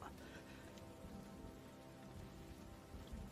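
Heavy rain pours steadily through a typhoon scene in the Demon Slayer anime, a dense, even hiss of drops striking surfaces with no pauses and no voices.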